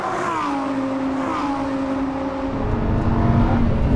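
Lamborghini Huracan Evo on the Bahrain International Circuit, its engine holding a steady droning note that settles lower, then a louder, rougher rush of road and engine noise swells near the end, heard alone without talk.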